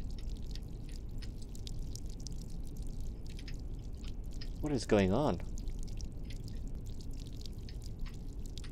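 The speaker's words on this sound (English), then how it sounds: "There's water leaking in through the window." Water dripping and leaking in through a train window in the horror game Shinkansen 0, faint scattered drips over a low rumble, with a brief pouring gurgle midway while a voice speaks.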